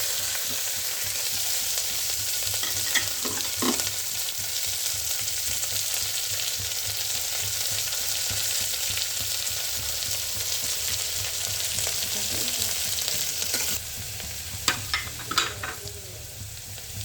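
Two chopped onions frying in coconut oil with mustard seeds and curry leaves, giving a continuous close sizzle with occasional scraping stirs and a few clinks near the end, no talking.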